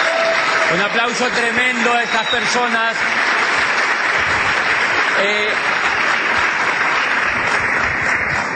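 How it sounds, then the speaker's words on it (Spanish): Steady, dense applause from a crowd fills the whole stretch, with a voice speaking briefly over it near the start. "Vale, un aplauso tremendo"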